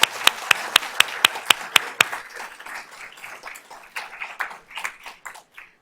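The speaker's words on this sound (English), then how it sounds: "Let's give Miss Corley a round of applause." A board of trustees meeting audience applauds Miss Corley. It opens with a handful of sharp, evenly spaced claps, then a scattered round of clapping from a small crowd that thins out.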